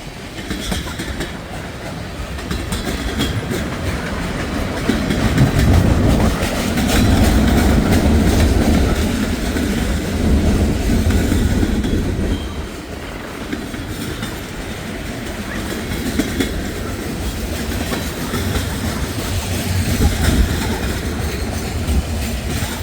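A long train rolls past on a railway on a cold, windy morning in Hamilton, a continuous loud rumble with clickety-clack wheel rhythm that swells and eases over the whole stretch.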